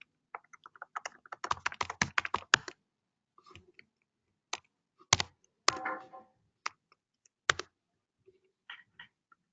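Bursts of typing on a computer keyboard, a quick run of dense key clicks early on, then scattered single taps and short flurries, close and fairly quiet, with no talk.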